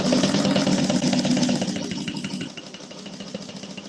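Sewing machine stitching an everyday bag, a fast, even mechanical whirr with a rapid rhythmic pulse, loud at first and then softer and slower toward the end.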